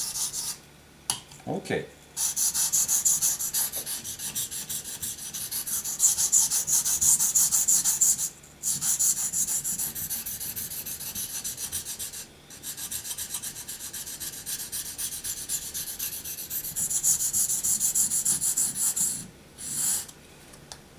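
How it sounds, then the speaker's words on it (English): A hunting knife being sharpened to a V edge makes long, repeated rasping strokes on a stone, a steady rhythmic scraping in runs with short pauses between them, close and clear, with a brief spoken word. "Gradually changing the sharpening angle, knife angle, gradually, and raising, sharpening"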